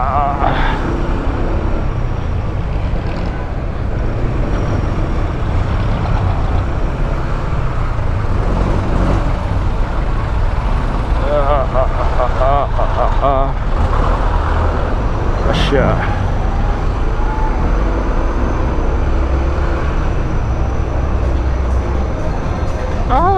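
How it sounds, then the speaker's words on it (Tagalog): A bus passes in busy Imus road traffic, heard from a motorcycle amid a steady loud rumble of engines and road noise, with a brief horn-like burst midway. "Bus."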